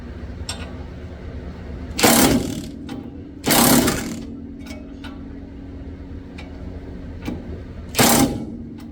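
A ratchet tightens bolts on a Pontiac LeMans in three short, dense bursts of clicking, close by, with faint ticks and mechanical handling noise between them.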